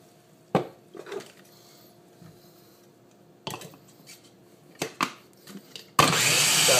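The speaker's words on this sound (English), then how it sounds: "This Ninja blender is great. It really chops it up fine, makes a nice little smoothie." A Ninja blender chopping food with water: sporadic clinks and knocks of the container being set up, then the motor bursts on loudly and whirs steadily to the end.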